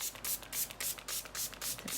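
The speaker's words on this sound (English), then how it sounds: "So now on this middle panel, I'm going to spray with lots of water" Water spritzes from a spray bottle onto a middle art panel in quick repeated pumps, each a short soft hiss, about seven bursts in an even rhythm, close and fairly quiet.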